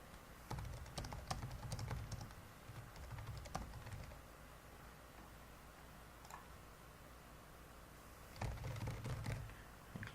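Computer keyboard typing while random information is entered into form fields, in quick bursts of clicking keys with a long pause in the middle and a final flurry near the end.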